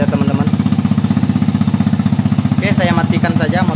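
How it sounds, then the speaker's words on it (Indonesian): A smoking motorcycle engine idles close by with a steady, rapid chugging pulse, loud and even throughout, while someone talks over it. "Oke, saya matikan saja motornya."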